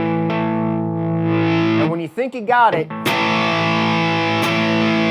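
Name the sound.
electric guitar power chord with distortion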